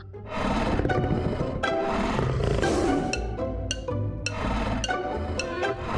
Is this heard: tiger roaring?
yes